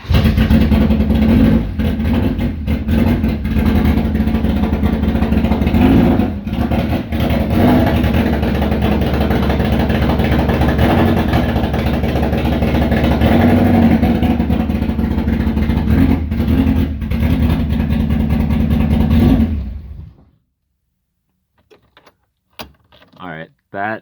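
A 1993 Acura Integra engine with a 4-1 header runs loud and steady for about twenty seconds, a raspy idle with a few blips, then cuts off abruptly to near silence.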